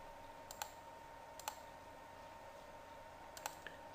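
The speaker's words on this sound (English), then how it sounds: "Double click on it" A computer mouse clicks sharply in three quick pairs, spaced about a second or two apart, faint against a quiet room hum.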